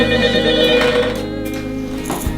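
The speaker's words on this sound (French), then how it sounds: "Téléphone." A telephone bell rings loudly and continuously indoors, with a steady sustained tone and a few faint background noises.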